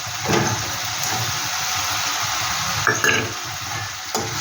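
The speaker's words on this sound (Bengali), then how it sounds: "পেঁয়াজটা একটু হালকা করে একটু ভেজে নিচ্ছি তারপর এখানে দিয়ে দিলাম আদা রসুন কাঁচা লঙ্কা বাটা" Onion frying in a pan with ginger, garlic and green chili paste for a jackfruit-prawn pickle dish: a continuous loud sizzle with a few sharp stirring scrapes and clinks of the utensil.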